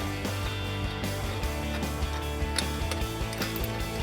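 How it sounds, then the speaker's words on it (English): An 18mm ratcheting wrench tightens the steering stabilizer bolt on a Jeep Wrangler JK, with steady, rapid mechanical ratchet clicking that runs through the whole stretch against a dense metallic background. "Grab your 18mm ratcheting wrench."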